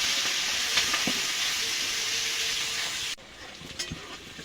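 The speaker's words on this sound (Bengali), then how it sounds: "নাড়াচাড়া করে ভেজে নেব এটা" Onion and garlic sizzle loudly in hot oil with occasional stirring scrapes, then the frying drops abruptly to a softer crackle near the end.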